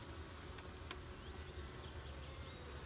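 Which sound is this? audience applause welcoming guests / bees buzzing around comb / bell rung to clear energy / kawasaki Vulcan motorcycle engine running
bees buzzing around comb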